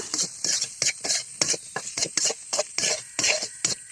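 Potatoes fry with turmeric and salt in a pan as a spatula stirs them, giving a quick run of rhythmic, close scraping strokes with short gaps between them and no talk.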